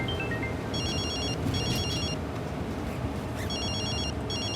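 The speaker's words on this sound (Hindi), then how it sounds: "लेफ्टिनेंट हेडक्वार्टर से कॉल आ रही है।" An incoming call on a phone plays a repeating electronic ringtone in short trilling bursts, with a faint tonal chirp at the start, steady and clear over a low background hum.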